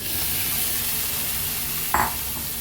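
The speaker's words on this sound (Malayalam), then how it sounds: "തക്കാളി ചേർത്ത് നന്നായിട്ട് വഴറ്റി ഇനി നമുക്ക് ഇതൊന്ന് മൂടി വെക്കാം" Ripe tomatoes frying in chili masala for a Kerala potato curry, a close steady sizzle with a brief louder scrape of a spoon stirring the pan, no one talking.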